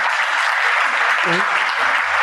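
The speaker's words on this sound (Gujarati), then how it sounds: "જરા આપણે તાળીથી વધાવીએ તો ખરા" An audience at a talk gives loud, dense applause, with many hands clapping together at a steady level for the whole span and a voice briefly heard through it.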